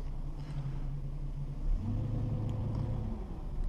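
A 1962 Dodge Lancer GT engine idles in a low, steady rumble while the car is shifted into reverse and eased backward, the note thickening slightly midway with no one speaking.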